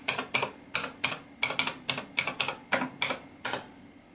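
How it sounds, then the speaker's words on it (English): Keys clatter on a 1979 Hazeltine 1420 terminal keyboard as login details are typed, about a dozen close, sharp strokes in quick uneven bursts with brief pauses between them. "So let's type in my login details."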